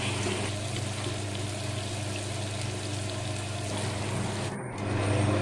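Ghee cream frying in a pan gives a steady, dense sizzle with continuous stirring that holds at the same level throughout, close and fairly loud.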